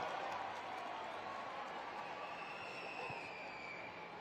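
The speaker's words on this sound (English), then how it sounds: "Make some noise for that unicorn, Caleb Blood, Sparkle Smash" A stadium crowd cheers and applauds at a Monster Jam event in Oakland, a dense, distant-sounding roar of voices and clapping that holds steady and fades slightly toward the end.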